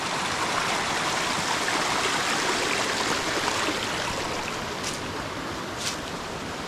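A mountain stream on Bohor, Slovenia, rushing steadily near a forest trail crossing, a dense, even broadband wash of flowing water that stays loud and unbroken throughout, with no voices.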